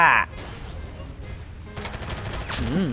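Gunfire in a Roblox game: an opening burst, then a steady rapid stream of shots that swells toward the end. The shots run continuously at close range and fairly loud.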